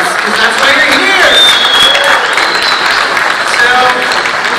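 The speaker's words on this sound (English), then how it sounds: "I'm gonna get a round of applause for those two shows" At a Walking Dead panel at New York Comic Con, a large convention audience breaks into sustained applause and cheering, loud and steady, with faint voices and whoops mixed in.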